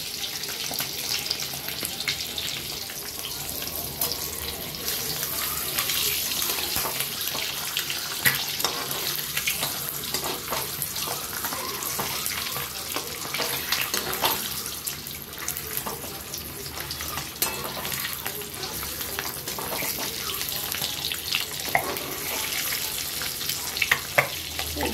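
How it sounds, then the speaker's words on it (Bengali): Eggs frying in hot oil with slits cut into them give a steady, dense sizzle and crackle lasting throughout, with a few sharper pops and faint scraping, close and moderately loud with no talking. "ডিমগুলো প্রথমে একটু ভেজে নেব।"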